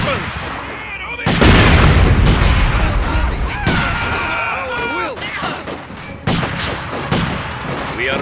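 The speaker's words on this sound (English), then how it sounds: "Artillery fire! Take cover!" Artillery fire booms through a Company of Heroes battle in Stalingrad, with heavy loud blasts and bursts of gunfire going on nearly throughout, and shouted soldier voices mixed in among the explosions.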